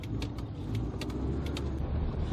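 A car engine hums steadily while the driver brakes and double-clutches down through second into first, with faint clicks from the shifting over the low drone.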